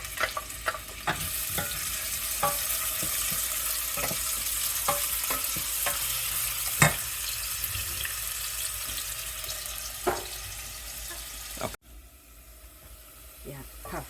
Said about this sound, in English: I will throw in the onion.